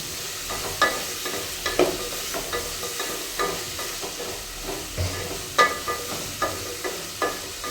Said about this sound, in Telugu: ఇప్పుడు పొటాటో, క్యారెట్ అయితే వేసుకుందాం. ఇది కూడా కొద్దిసేపు బాగా వేగనిద్దాం.